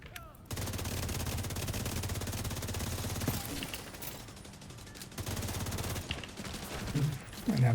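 Sustained rapid automatic gunfire in a video game shootout, a dense, loud, continuous rattle of shots that runs almost unbroken, with brief dips and a couple of short pauses toward the end.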